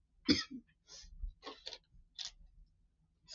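A few quiet, short coughs and throat-clearing sounds in a hushed room, spaced irregularly, while cleaning a Fender Stratocaster guitar fretboard.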